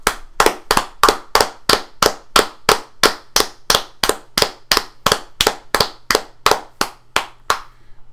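Two people clap together in a steady, even rhythm, about twenty sharp claps in eight seconds. It is a multitrack recording played back in the Audacity sound editor, loud and close, with no voices.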